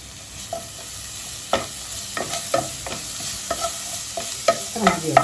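A spoon stirs curd curry with coriander leaves in a pot, a series of sharp scraping clacks against the vessel over a soft background hiss, growing busier toward the end, with no talking.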